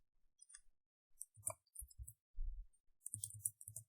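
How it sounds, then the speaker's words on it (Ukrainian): Left button of a computer mouse clicking in a quiet room, a series of soft, close, irregular clicks, some in quick pairs and small clusters, with no talking. "Для цього натискаємо лівою кнопкою миші"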